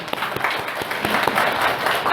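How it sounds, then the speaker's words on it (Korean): A church congregation applauds during a Christmas thanksgiving service, a dense, steady burst of hand claps filling the room without any voice on top. "우리 한번 박수 한번 합시다."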